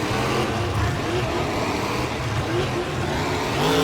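A monster truck engine roars and revs steadily as the truck charges up a step-up ramp at a freestyle event in Tampa, loud and continuous with a swelling pitch toward the end.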